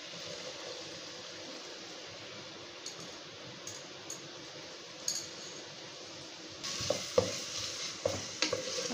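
Chopped capsicum and carrot going into a pan of cooked tomatoes and frying, a steady close sizzle with scattered clinks of a utensil against the pan, growing louder and busier toward the end.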